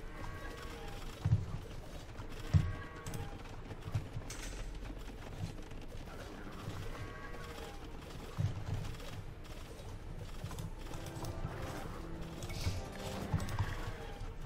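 Horse in the real-time strategy game Age of Empires II: soft clip-clop hoofbeats and occasional whinnies within busy game sound, with a few louder thumps scattered through a continuous, moderately loud bed.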